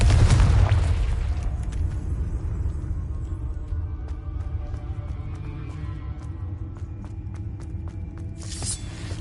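The Confringo explosive spell goes off in Hogwarts Legacy with a loud, deep boom, then a long rumbling decay that fades slowly over several seconds. A faint sharp crackle returns at the very end.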